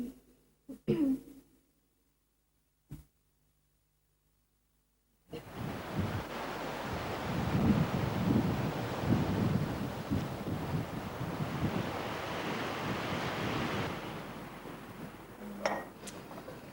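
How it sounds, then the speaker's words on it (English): Strong wind gusting outdoors, a steady loud rushing roar that begins suddenly after a quiet indoor stretch with brief clatters, then fades near the end. "Gosh, it's windy out there."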